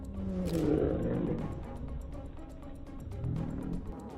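Male lion roaring during a hunt in the wild, a low rumbling roar surging early then fading, with a second deeper swell near the end over rough outdoor background.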